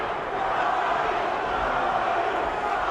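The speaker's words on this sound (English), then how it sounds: "the crowd yelling for Charles Oliver" A boxing arena crowd of over 25,000 yelling for light heavyweight Charles Oliver, a continuous distant roar of massed voices at steady level with no distinct words.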